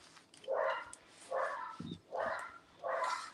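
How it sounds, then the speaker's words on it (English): Dogs bark in the background, four evenly spaced, moderately loud barks or yelps with short gaps between them, heard indoors during a live sales stream. "I bet my child cannot hear the dogs barking"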